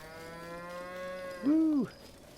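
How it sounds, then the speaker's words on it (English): Cows lowing in The Legend of Zelda: Breath of the Wild, a long drawn moo that rises and swells loud before dropping off, alone against a faint background hum. "Do we kill any cows?"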